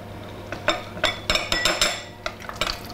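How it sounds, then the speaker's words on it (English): Butter, lemon essence and powdered sugar glaze being stirred in a bowl, with a quick series of close clinks and scrapes of a utensil against the bowl, about ten strokes in three seconds. "Then I'll mix in 100 grams of powdered or confectioner's sugar"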